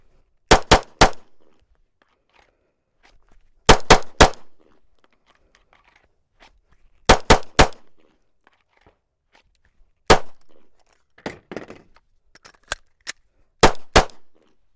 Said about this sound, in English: You'll draw your weapon, 2 shots, and then up in the head.